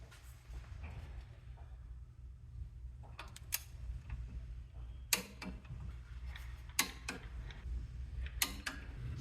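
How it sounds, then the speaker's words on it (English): A torque wrench clicks sharply several times while tightening alternator mounting bolts on a 1994 Chevy K1500, the metallic snaps standing out over a low steady hum. "So I'll go ahead and torque these bolts down."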